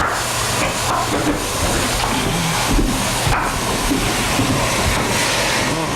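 A loud, steady sizzling hiss as water hits a hot frying pan of chicken pieces, continuous and close, with faint crackles throughout.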